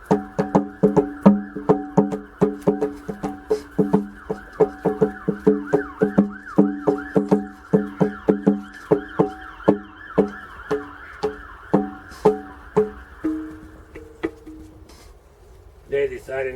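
A rapid series of sharp, tonal percussive hits pulses in a fast rhythm, sounding like a synthetic siren-like warble, then slows and fades near the end.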